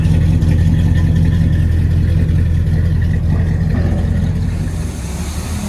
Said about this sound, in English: Here's the engine. Sounds excellent. 350 V8.